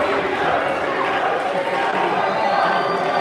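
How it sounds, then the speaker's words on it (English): A large boxing crowd cheers, hoots and hollers in a continuous loud roar of massed voices with no pause. "I saw a lot of people cheering, a lot of hooting and hollering"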